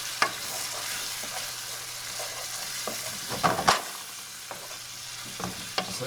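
Pork seasoned with Sazón is stirred in a hot pan, with a steady sizzle and frying hiss broken by scattered spoon scrapes and clinks, close by and with no talk.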